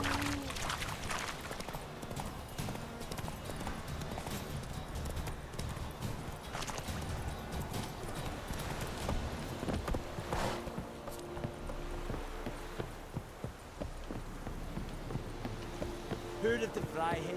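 Horse hooves clip-clop steadily in The Witcher 3 video game as the horse trots along, a rhythmic run of hoofbeats mixed with game sounds while someone talks over it.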